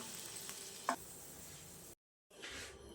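Spoon stirs hot tempering into a chicken curry, a soft continuous frying sizzle with a single sharp clink near the start, broken by a short silent gap before the sizzling resumes.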